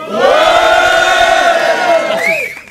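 A crowd cheers and yells loudly all at once, a sustained roar of voices that swells and then trails off after a couple of seconds.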